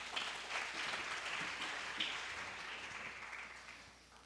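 An audience at a 50th birthday celebration and Ramayana recitation claps steadily for several seconds, a dense patter of many hands that slowly tapers off toward the end.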